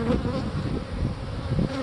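Dense, continuous buzzing of many honey bees close by at a hive, a steady droning hum with no voices.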